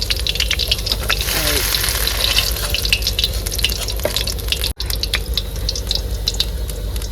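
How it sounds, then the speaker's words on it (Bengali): Fish fry in hot oil with a continuous, dense crackling sizzle that stays loud and close throughout, with no voices. "এইভাবে কিন্তু মাছ সবগুলো ভেজে নেবো"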